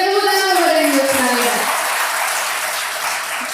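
Audience applause at a public panel discussion in Jakarta, a dense burst of clapping lasting a few seconds and gradually thinning, following a voice at the very start.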